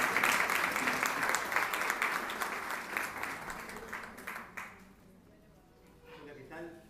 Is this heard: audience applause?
yes